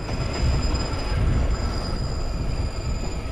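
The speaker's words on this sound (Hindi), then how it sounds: "देखो यार स्टेशन आ रहा है और मैंने काफ़ी हार्ड ब्रेकिंग किया है गाइस, देखते हैं हम रोक पाते हैं कि नहीं हमारे ट्रेन को" A Mumbai Churchgate–Goregaon slow local train braking hard as it nears a station: a loud, steady rolling rumble throughout with a thin, faint high metallic squeal held above it, no voices.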